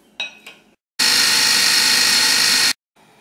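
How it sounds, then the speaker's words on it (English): An electric grinder pulverises toasted almonds, coconut and poppy seeds in one loud, steady whirring burst lasting under two seconds, preceded by a couple of short clicks and followed by quiet. "I'm going to grind all the toasted almonds and coconut and poppy seed."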